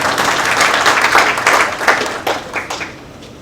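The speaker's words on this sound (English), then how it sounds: "So please give a round of applause for Samuel Gurel." An audience at the Echo Asia specialty coffee conference claps in a dense burst of applause that holds for a couple of seconds, then thins into a few scattered claps before fading.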